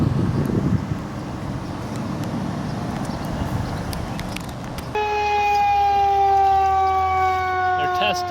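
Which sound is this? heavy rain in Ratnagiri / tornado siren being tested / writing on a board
tornado siren being tested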